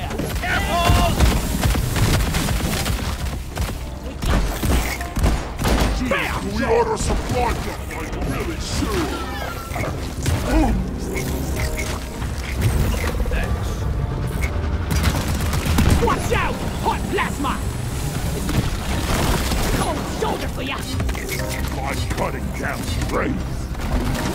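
Dense, continuous gunfire and weapon mechanisms in the co-op mining shooter Deep Rock Galactic, loud and sustained through a chaotic cave fight, with occasional shouted game voices in the mix.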